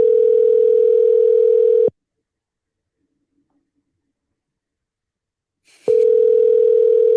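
Outgoing phone call sounding as a loud steady ringback tone that runs for about two seconds, breaks off into four seconds of silence, then resumes with a click, with no talking.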